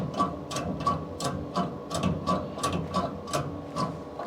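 Custom-built gear shifter mechanism on a Chevy COE being tested, giving a steady series of sharp ratcheting clicks at a regular rhythm, close and moderately loud.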